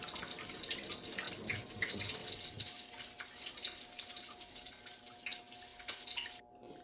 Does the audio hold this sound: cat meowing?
no